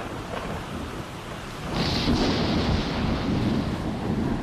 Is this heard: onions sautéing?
no